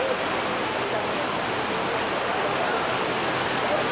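A waterfall at Utopia Park in Israel gives a steady, dense rushing roar that holds evenly for the whole stretch, close and fairly loud, with no break or change.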